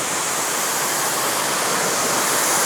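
Pressure washer spraying plain water to rinse shampoo off a car during touchless detailing, a steady loud broadband hiss of spray running throughout with no pauses.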